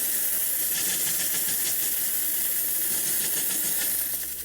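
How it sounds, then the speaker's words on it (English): A Reliable 5100CD steamer releases a continuous loud hiss of steam, close up and steady with slight sputtering, no voices over it. "I really like it to be more of a wet steam."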